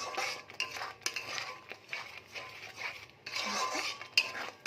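Coconut milk stirred into a prawn malai curry gravy in a pan, close-up scraping and clinking of a metal spoon over a soft simmering sizzle, in uneven bursts with no talking.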